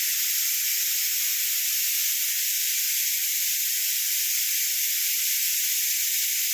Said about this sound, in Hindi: कुकर की सीटियाँ बज रही हैं क्योंकि चने चढ़ा दिए हैं